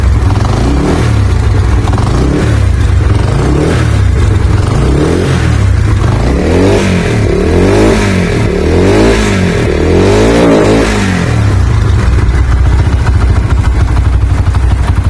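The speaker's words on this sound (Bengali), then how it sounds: "বাইকটা যদি আমরা স্টার্ট দিয়ে দেখি সেক্ষেত্রে সেলফে স্টার্ট হলে দেখেন" A Runner Deluxe 80cc motorcycle engine cranks on the electric starter, catches, and runs with a loud, close, throbbing idle and a few revs, with no voices.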